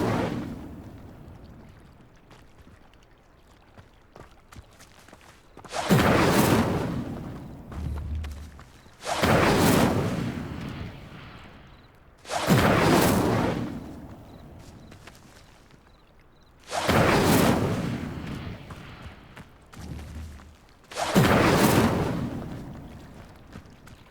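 In the Hogwarts Legacy video game, the Incendio fire spell ignites pyres. Five loud whooshing bursts of flame roar up at regular intervals, each fading to a low rumble before the next, with no talk.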